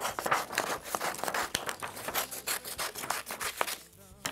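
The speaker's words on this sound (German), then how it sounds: "Wir brauchen eine Schere und wir schneiden diesen Halbkreis" Scissors cut a semicircle out of paper for a hen craft, giving close, steady crisp snipping and rustling strokes that run throughout with no talk.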